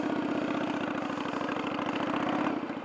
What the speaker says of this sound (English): See, I'm barely raising my RPMs any, and I'm just getting it into gear enough to roll